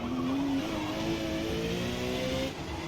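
Race car in the Forza Motorsport video game braking and sliding through a corner, a loud, continuous engine drone with tyre scrub and shifting pitch throughout, no talking.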